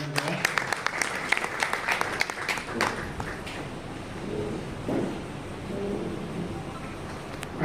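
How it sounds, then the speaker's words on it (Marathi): An audience at a Rotary Club event in Beed claps: dense, close applause for a few seconds that thins into scattered claps and murmuring crowd noise. "त्यांचं टाळ्या वाजवून अभिनंदन करा"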